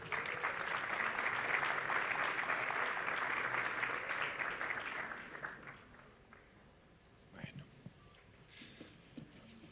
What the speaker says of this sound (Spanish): les pido que recibamos con un fuerte aplauso